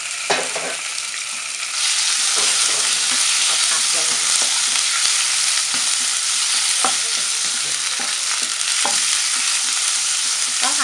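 Loud, steady sizzling and frying as sliced pork stir-fries in a hot pan with garlic, with a spatula scraping and stirring now and then.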